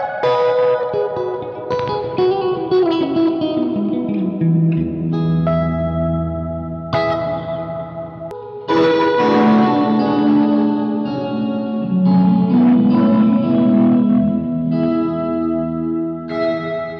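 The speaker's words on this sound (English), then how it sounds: "someone who loves classic reverb sounds that can give you that hall arena reverb sound, a classic spring reverb that can sound very deserty" Electric guitar chords and single notes played through a reverb pedal with room, hall and spring settings, each strum leaving long washy tails and echoing decay, loud and close with no talking.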